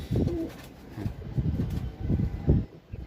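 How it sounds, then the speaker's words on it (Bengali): A Dobazz pigeon coos in a series of short, soft rhythmic pulses, close by and alone, with faint background noise. "এটা কালকে এসে বসেছিল, পুরো দোবাজ পায়রার মতোই লাগছিল"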